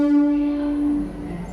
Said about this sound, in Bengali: এই যে আমাদের ট্রেনটা ঢুকছে